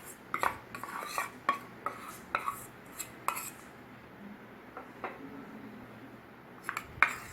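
A spoon scrapes and clinks around a bowl as powdered sugar, condensed milk and ghee are mixed, giving irregular close taps and scraping strokes, then quieter stirring toward the end.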